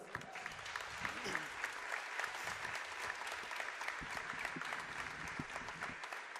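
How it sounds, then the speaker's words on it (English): Audience applause in a gym before a women's college basketball game, faint and distant, steady clapping throughout with a murmur of voices underneath. "I was going to ask you for a round of applause, but you did that"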